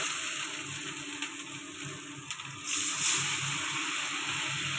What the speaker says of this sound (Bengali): মশলাটা কষানো হয়ে গেছে, এবারে একটু জল দিয়ে দেবো।